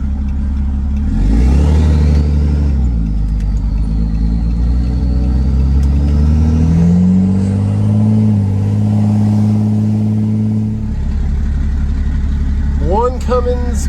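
Cummins diesel truck engine pulling through a left turn, a loud close drone that rises in pitch as it accelerates, holds, then drops off near the end, with someone talking.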